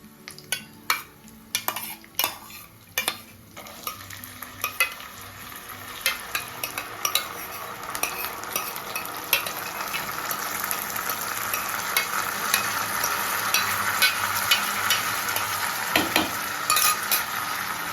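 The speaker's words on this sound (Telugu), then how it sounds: "ఈ శనగపప్పు అంతా పోపులో వేసేస్తాను." Boiled chana dal sizzles and fries in hot oil tempering while a spoon scrapes and clacks against the pan in repeated stirring strokes, close and continuous.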